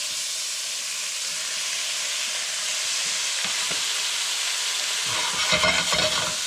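Morel mushrooms, halved, sizzle steadily in hot browning butter in a pan, a dense continuous frying hiss, with a few light stirring or scraping clatters near the end.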